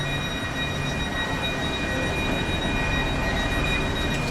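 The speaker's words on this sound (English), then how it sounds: "It's the train." A train moves through a station, a steady loud rumble of rolling stock with faint high metallic tones, continuous for a few seconds with no voices.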